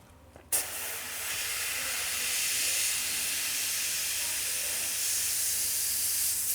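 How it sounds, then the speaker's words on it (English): An airbrush being cleaned lets out a steady, fairly loud hiss of air that starts abruptly after a brief pause and carries on unbroken for several seconds, with no talking. "Airbrush is clean."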